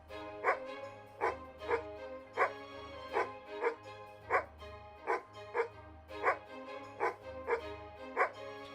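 A tomcat character in the Harry Potter-inspired game Near-Mage vocalizes with a rhythmic series of dog-like barks, about a dozen evenly spaced yips over a low musical backdrop.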